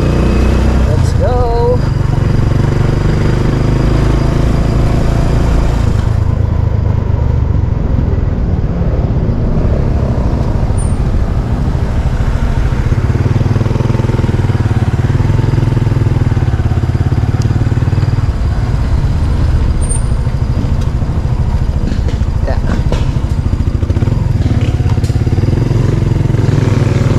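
A motorcycle rides through a Philippine town ahead of an incoming typhoon. The engine drones steadily and loudly for the whole stretch, with wind rush and passing traffic, and a rider briefly talks over it.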